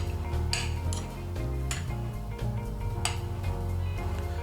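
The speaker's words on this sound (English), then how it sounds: "And then we'll just go ahead and mix all of those ingredients up." Salt, black pepper, mint and parsley are stirred together in a bowl, with a spoon clinking and scraping against the sides in irregular strokes, all close and fairly quiet.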